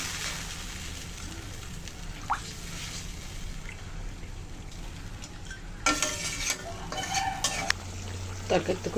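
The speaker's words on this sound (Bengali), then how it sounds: "তরকারিটা খুব সুন্দর ফুটতে শুরু করেছে।" Tilapia curry with water lily stems and pointed gourd bubbling in a pan, with soft drips and gentle stirring, then louder scraping and clattering of a utensil toward the end.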